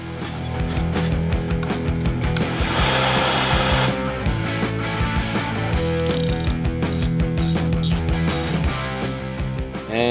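A hand ratchet works loose the bolts on a 1998 Honda CR500 motorcycle during disassembly, its fast, steady clicking running close and loud for the whole stretch with no talk.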